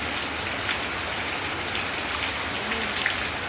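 Heavy rain pours steadily on surfaces outdoors, a dense, even hiss with no breaks and no talking, during a flooding downpour.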